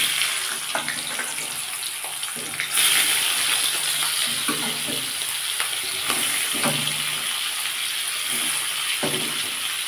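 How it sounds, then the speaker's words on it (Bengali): Prawns frying in refined oil in a kadai, a loud continuous sizzle with occasional scraping stirs and a brief flare of stronger hissing partway through. "আমার চিংড়ি মাছটা ভাজা ভাজা হয়ে এসছে"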